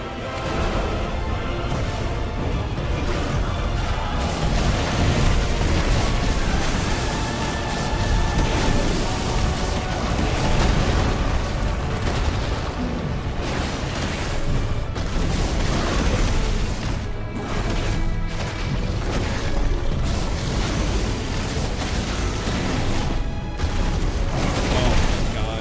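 Brimstone ability explosion in the action game Final Fantasy XVI, heard as dense, loud booming bursts and crashes in a continuous wash of combat effects, with some talk mixed in.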